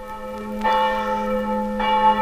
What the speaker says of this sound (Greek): αυτή ήταν η καμπάνα που ζητούσαν